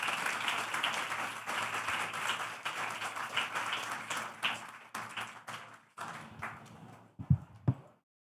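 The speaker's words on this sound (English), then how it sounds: "asking for a round of applause for all of you and congratulate you on this new endeavor" Audience applause fills a conference session room at a nature-focused event, a sustained dense wash of many hands clapping that thins out near the end into a few scattered, louder claps before stopping.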